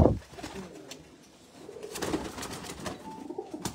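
Flying pigeons kept by breeders in Jinnah Garden, Islamabad, give soft low cooing against a busy outdoor background, with a louder burst at the start and steady murmuring ambience throughout.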